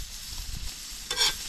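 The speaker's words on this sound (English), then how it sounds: "We're just gonna butter up this side of the frying pan now." Steady hissing sizzle of butter in a hot frying pan at a campsite, with a brief scraping stir near the end.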